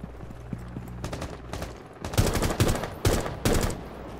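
Gunfire in the Rainbow Six Siege video game: a few sharp shots early on, then loud, dense bursts of rapid automatic fire, close and aggressive, with no talk over them.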